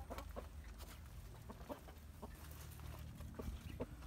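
Coturnix quail settling into their new DIY pen, giving scattered soft clucks and chirps over a steady low background rumble, close and fairly quiet throughout.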